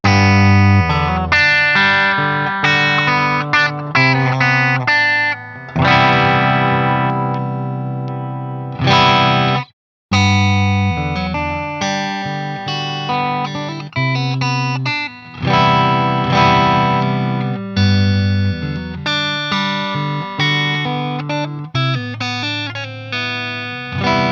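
A 2022 Squier Affinity HSS Fat Strat electric guitar through an overdrive pedal playing chords and riffs with a crunchy, saturated tone, steady and loud, with one brief pause midway.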